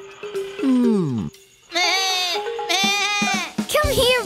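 A cartoon baby goat gives a series of loud, close, wavering bleats, one sliding down in pitch followed by a short pause and then several more in quick succession.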